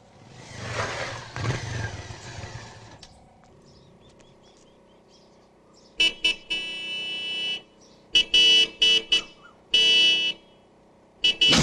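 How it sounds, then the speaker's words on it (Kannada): A car horn under repair blares in several loud, uneven bursts of varying length after a stretch of quieter, muffled background noise. "ಏನ್ಲ ಅದು? Horn repair sir."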